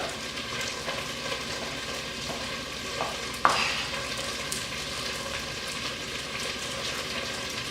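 Potatoes fry in a pan with a soft, continuous sizzle, and one sharp clatter of a utensil partway through before the steady frying resumes.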